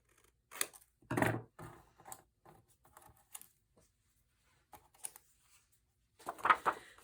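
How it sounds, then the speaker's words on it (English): Scissors snip the corners of cream cardstock during a paper folio craft project, making a few short, close, dry cutting clicks separated by quiet pauses, with light handling rustles between cuts. "Bring in your scissors and trim out your corners."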